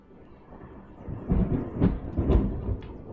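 Thunder from a storm outside, heard faintly as a low distant rumble that swells into several rolling booms, with no talking over it.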